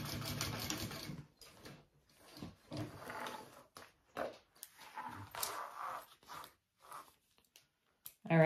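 A sewing machine top stitches the bottom panel of a hobo bag in several short, stop-start runs of quiet mechanical whirring, with soft handling noises between the bursts.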